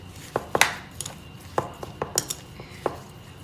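A utensil stirring sugar into pineapple in a pot, with sharp, irregular metallic clinks and scrapes against the pot, close and fairly loud over a soft background.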